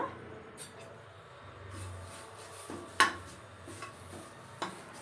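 Curry leaves dry-roasting in a pan while being stirred give sparse, quiet scrapes and light clinks, with one sharper metallic tap partway through, over a soft background.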